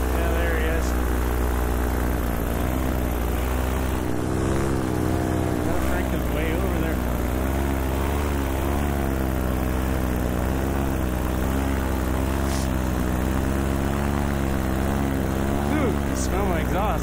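Paramotor engine and propeller droning steadily in flight over a hillside, a loud continuous buzzing hum with stable harmonics throughout, close to the microphone, with wind rush.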